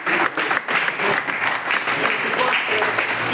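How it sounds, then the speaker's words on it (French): An audience at a Paris film screening applauds the director, dense clapping that stays loud and steady throughout, with some voices faintly mixed in. "on vous applaudit encore."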